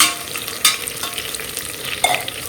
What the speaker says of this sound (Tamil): இந்த வெங்காயம் இந்த மாதிரி வதங்கினதுலையே நம்ம வந்து முந்திரி சேர்த்துக்கலாம்